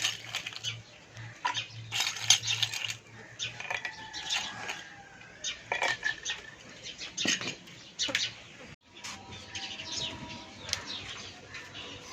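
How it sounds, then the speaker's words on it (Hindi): Ice cubes drop into a glass of mint lemonade, making a series of scattered clinks and knocks with short ringing tones and soft rustling between them. "लेकिन हम ज़रूर डालेंगे बर्फ़"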